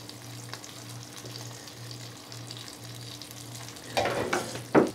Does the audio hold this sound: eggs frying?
yes